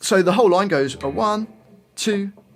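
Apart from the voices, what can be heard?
No everyday noise stands out behind the speech.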